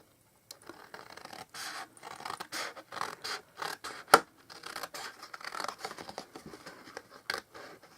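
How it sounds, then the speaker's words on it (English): Scissors snip and scrape through paper in a series of irregular crisp cuts, close up, with one sharper click midway. "I'm going to try my best to do it with me scissors"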